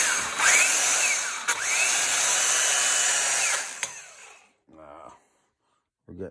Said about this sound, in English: So, I'm going to grind there.